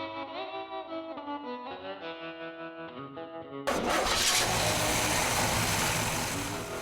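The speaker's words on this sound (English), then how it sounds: "Under the hood, both these beauties are powered by the same 371 cubic inch rocket V8" A classic car's 371 cubic inch Rocket V8 fires up after a stretch of music, then settles into a loud, rough, continuous engine roar that fades slightly toward the end.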